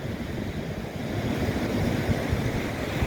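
Surf rolling onto the beach at Loch Ard Gorge, a steady broad wash of breaking ocean waves with wind buffeting the microphone, continuous and fairly close throughout.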